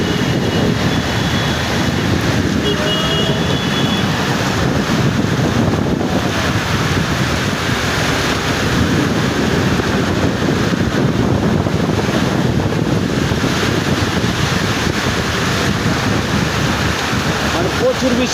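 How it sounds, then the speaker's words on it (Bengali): Heavy rain and strong wind roar without a break through a cyclone-like storm, a dense, loud hiss with gusty buffeting against the microphone that stays close and steady for the whole stretch. "ভাই মানে এমন বৃষ্টি হইতেছে বলার বাইরে। পানি পড়তেছে, পানি পড়তেছে।"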